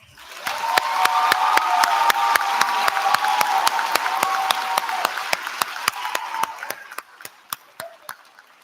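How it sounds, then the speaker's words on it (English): A graduation ceremony audience applauding: a sustained wash of many hands clapping that thins out toward the end into a few scattered, sharp individual claps. "And we can have some applause."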